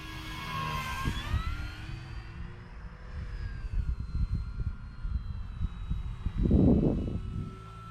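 An Arrows RC Tecnam 2010 model plane flies past outdoors, its motor whine sliding down in pitch as it passes, fairly close, with wind and rustling underneath.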